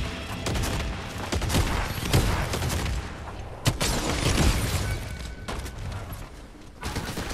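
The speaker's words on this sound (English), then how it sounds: "Yeah, so this launches grenades." A grenade launcher firing in the Fortnite video game, a dense run of sharp bursts and thumping booms at moderate loudness, rapid and irregular over a busy background.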